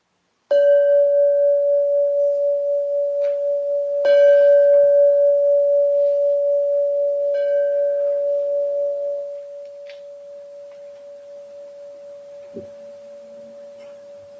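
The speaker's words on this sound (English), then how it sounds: "follow the sound of this gong into a meditative state" A meditation gong is struck twice, each hit ringing out as a long, pure sustained tone that slowly decays, followed by a softer lingering hum and a faint low tap near the end, with no talking.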